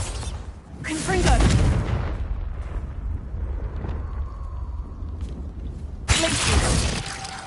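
A blasting explosion from the Confringo spell in a wizarding game, with a loud shattering burst, a long rumbling tail and a second sharp blast near the end, mixed with a voice.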